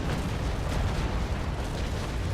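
Ship cannons fire in a broadside during a Naval Action sea battle, a loud, continuous rumbling barrage of overlapping booms with heavy low-end thunder sustained throughout.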